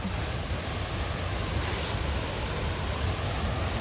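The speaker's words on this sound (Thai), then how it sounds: "ขึ้นเขา ได้ยิน เสียง น้ำตก โอ้โห น้ำตก นี่ งาม น้ำตก ใหญ่" A large waterfall on a mountainside rushes in a steady, full hiss of pouring water, loud and continuous with no voices over it.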